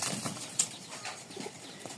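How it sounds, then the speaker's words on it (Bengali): Rajshahi pigeons coo softly nearby, with faint rustling and a brief flutter of wings in a quiet setting. "এই সব কবুতর কোয়ালিটি খুব ভালো উড়ানোর জন্য"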